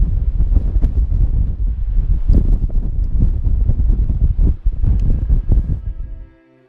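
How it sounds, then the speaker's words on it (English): Strong wind buffets a microphone on an open coastal clifftop at Crackington Haven, a loud, continuous rumbling roar with gusty surges that drops away abruptly at the end. "It's going to get windy here."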